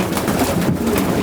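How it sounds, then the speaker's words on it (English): About thirty young racing pigeons coo steadily inside a loft, a dense, continuous murmur of low throaty calls filling the space close by. "my young birds. I got about 30 of them"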